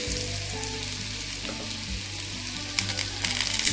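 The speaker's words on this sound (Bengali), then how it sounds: "তেল গরম হয়ে গেছে, তো আমি এই অবস্থায় এখানে আলুগুলো দিয়ে দিচ্ছি।" Potatoes fry in hot oil in a home kitchen pan, giving a close, continuous crackling sizzle with faint stirring clatter toward the end.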